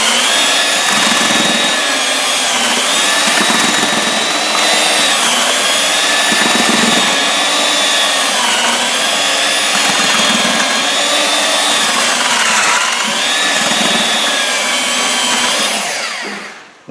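A drill mixer churning glass fiber reinforced concrete with a sand layer, a loud, continuous whining motor hum with slight pitch wobbles under load, running alone for the full stretch and cutting off at the end.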